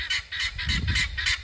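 Backyard birds squawking and honking in a steady run of loud, close calls, about seven sharp repeated honks with no talking over them.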